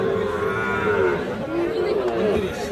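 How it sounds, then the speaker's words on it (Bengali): Calves mooing at a livestock market where young bulls and heifer calves are being sold, a long sustained low call heard continuously over crowd chatter and people talking nearby. "এটাও একটা সার বাছুর"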